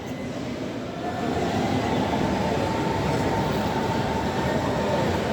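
Train rolling through Berlin Hauptbahnhof, Berlin's central station, a steady rumbling wheel-and-carriage roar that swells after the first second and holds loud and continuous, with no voices.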